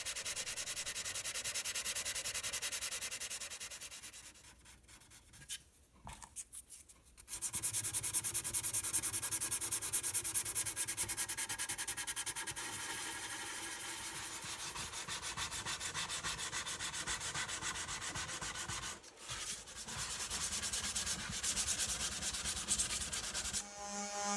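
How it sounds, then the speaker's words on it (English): Steady, close scratchy rubbing of very fine sandpaper with shellac on a wooden parlor guitar body, continuous with a brief pause midway and no voices. "I'm using very fine sandpaper and some shellac to fill any gaps I have between the binding and body."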